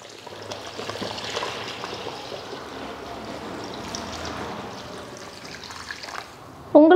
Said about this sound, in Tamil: இப்போ வந்து தேவையான அளவுக்கு தண்ணி சேர்த்துக்கலாம்.